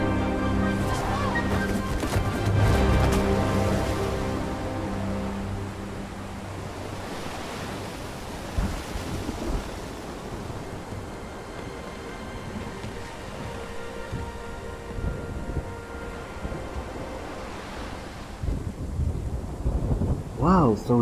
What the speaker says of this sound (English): It is a stormy sea.